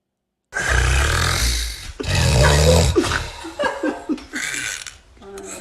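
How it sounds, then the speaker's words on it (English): Man snoring loudly, heavy rasping snorts that come in repeated bursts, the later ones shorter and broken, heard alone without speech. "If you snore like that, you should get to a doctor."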